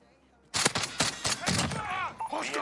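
Rapid bursts of gunfire from a weapon in Modern Warfare crackle loudly after a quiet half second, with irregular shots mixed with game effects and faint voices.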